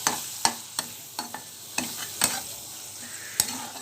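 Spoon stirring tomato pieces into onions frying in a pan for an egg dum masala curry, with irregular scraping knocks over a soft continuous sizzle, close and moderately loud, no talking.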